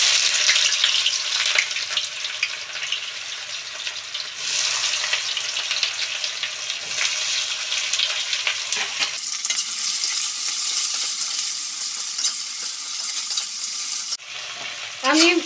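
Chopped onions hit hot oil with whole garam masala spices in a pan, sizzling loudly and continuously while a utensil stirs and scrapes, with a fresh surge of frying partway through.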